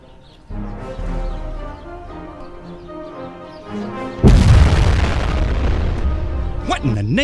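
Heavy explosions from incoming fire are played as a film sound effect. A rumbling blast hits about halfway through and rolls on loudly, over a low drone, with voices talking throughout.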